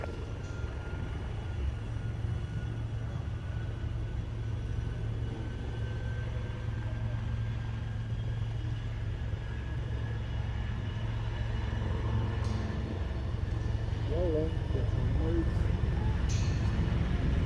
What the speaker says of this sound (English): The Mig-15, the first of the 2 jets to roll.